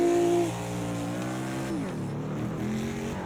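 A NASCAR-style race car in the Project Cars 2 racing sim on a Long Beach street circuit, its engine holding a steady drone, then dipping and climbing again as the driver eases the throttle through a turn.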